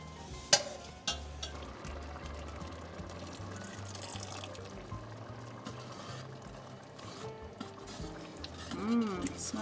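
Pasta and beans cook slowly in a pan in the water from the beans, giving faint, soft bubbling and stirring noises with a few light knocks and occasional talk.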